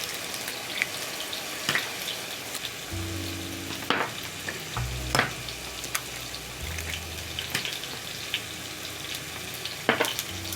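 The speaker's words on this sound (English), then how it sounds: "Mix in the seasoning into the eggs" Beaten eggs seasoned with black pepper and salt sizzle softly in a frying pan beside breakfast potatoes and sausages, with sporadic scraping and clinking of a utensil as they are stirred, moderately quiet and without talk.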